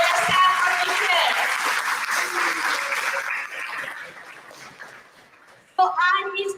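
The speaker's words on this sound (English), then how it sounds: "Please give a round of applause for yourself for being here." Audience applause at a college talk on creative advertising, a sustained wash of clapping that gradually fades, then a voice begins speaking at the end.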